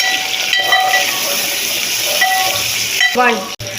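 Chopped tomatoes and onions sizzling in a hot pan, with a steady loud hiss and crackle close by and a few clinks of a utensil near the end.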